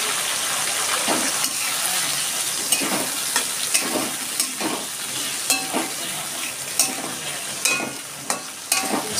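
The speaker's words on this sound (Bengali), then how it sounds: "এর মধ্যে আমি আলুগুলো দিয়ে দিচ্ছি।" Potatoes frying in a pan with a little water and ginger paste, a steady close sizzle broken by repeated stirring scrapes and clinks.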